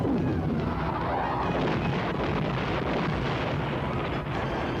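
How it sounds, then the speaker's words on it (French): Dull, rumbling booms of explosions in a mine roll beneath steady wind-like noise, heavy and muffled as if from some distance. "Je peux entendre le bruit des explosions."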